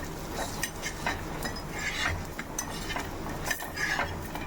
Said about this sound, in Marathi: असं उलट पुलट करून खमंग भाजून घ्यायचं आहे